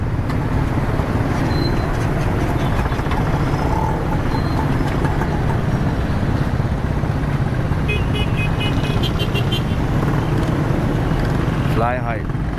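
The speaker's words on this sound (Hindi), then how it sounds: "बहुत ज़बरदस्त यहाँ पर ट्रैफिक इस वक्त मौजूद है, खड़ा हुआ है।" Dense street traffic in Karachi rumbles in a constant roar of engines and motorcycles, with occasional distant horn toots, while someone talks over it.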